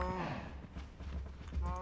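Minecraft cows give repeated low, drawn-out game moos in short bursts, close and clear, with no talking over them.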